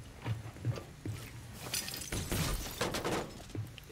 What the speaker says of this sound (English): they're shooting at Urza